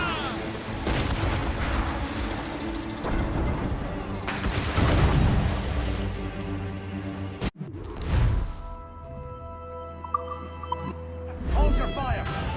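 Ship cannons firing in a naval battle in Assassin's Creed Rogue, several heavy booms and crackling volleys, loud and close, with shouted crew orders and ambient sea noise between the blasts.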